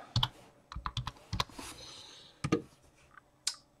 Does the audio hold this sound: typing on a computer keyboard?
yes